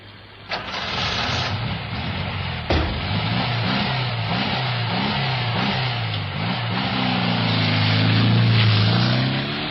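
A taxi engine runs and pulls away, a sharp knock early on, then the motor note climbs steadily as the car accelerates off, with no talk over it.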